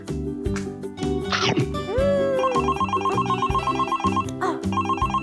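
A telephone rings in a child's play scene, a loud electronic ringtone repeating in a steady patterned burst close to the microphone, while a voice briefly exclaims and makes other vocal sounds alongside it.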